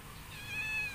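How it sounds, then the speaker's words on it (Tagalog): A pale house cat gives one drawn-out meow close by, clear and fairly loud against a quiet indoor background. "Tapos eto naman pusa kong si Piki, ang tisay kong pusa"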